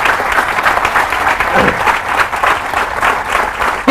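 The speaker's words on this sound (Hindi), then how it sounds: "इस बात पे जोरदार तालियां होनी चाहिए" Loud, sustained audience applause fills the hall at a Forever Living Products business seminar, dense clapping from a large crowd continuing steadily throughout.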